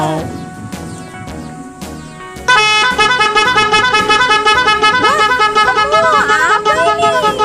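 Vehicle horns blare in a jammed road, several at once. Sparse honks at first give way to a loud, sustained, overlapping chorus of toots that fills the rest of the clip.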